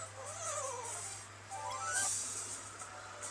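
A cat enemy in the Miitopia video game meows in short rising and falling cries over a steady game music and hum background.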